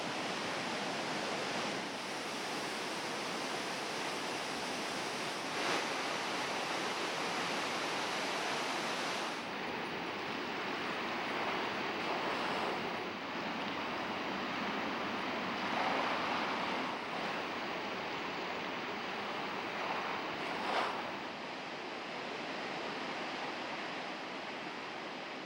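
Rhine Falls in Switzerland, a 150-metre-wide, 23-metre-high waterfall carrying about 700 cubic metres of water per second: a constant, broad roar of cascading water, steady and unbroken throughout.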